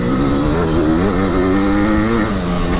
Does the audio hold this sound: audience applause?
no